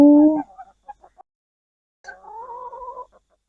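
Hens in a covered backyard coop in summer give a few close clucks followed by a short drawn-out bawk, with pauses of quiet between the calls.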